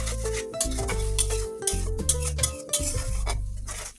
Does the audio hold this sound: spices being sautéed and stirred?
yes